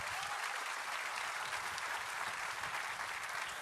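A church congregation applauds at a sermon, a steady, even wash of many hands clapping, heard from a distance and fairly quiet, with no voices over it.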